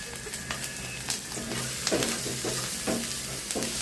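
Stuffed ivy gourd for an Andhra-style fry sautés in a pan, a steady sizzle overlaid with repeated, rhythmic stirring and turning scrapes at close range.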